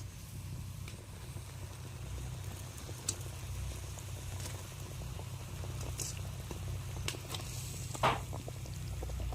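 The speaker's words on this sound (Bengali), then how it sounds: "ঝোলটা ফুটে উঠেছে, এবারে আমি একে একে মাছগুলো ছেড়ে দিচ্ছি।" Mustard curry bubbles at a low, steady simmer in the pan as hilsa fish pieces go in, with faint soft crackles and pops over a continuous gentle boil.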